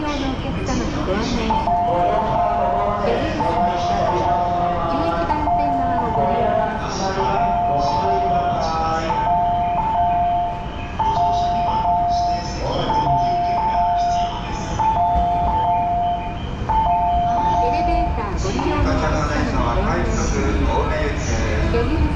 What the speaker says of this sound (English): And there's our train right now,